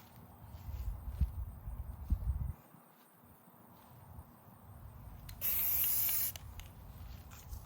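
Spray paint from an aerosol can is applied to an AR-15 rifle: a single close, sharp hiss lasting about a second, after quieter handling and rustling noises.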